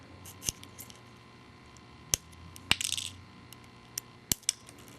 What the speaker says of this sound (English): I'm going to take my tweezers or my wire snippers and snip as close as you can